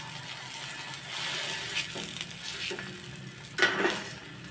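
A burger patty sizzles on a new burger grill, a steady low frying hiss with occasional scraping and clinking of a utensil, fairly close and without talk.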